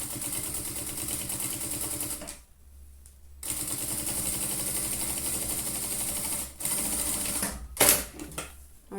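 A sewing machine stitches a seam on fabric for a trapezoid zippered pouch. It runs in fast, steady mechanical bursts, pausing once for about a second and briefly twice more, close and clear with no talk.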